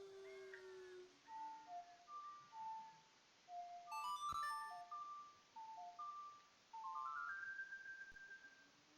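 The Sun's Song plays on the ocarina in The Legend of Zelda, a clear melody of bright, sustained whistle-like notes that repeats with a brief sparkling chime in the middle.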